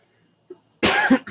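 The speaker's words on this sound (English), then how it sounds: "I'm coughing because I legit my throat's getting dry" After a near-silent moment, one sharp, close cough breaks out, followed by a brief second rasp.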